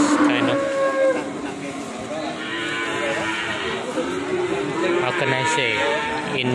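Ongole cattle from Indonesia moo in long, drawn-out lowing calls, one after another, with several animals heard over a steady outdoor background.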